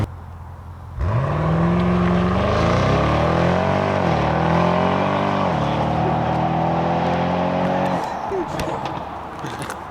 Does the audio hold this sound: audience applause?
no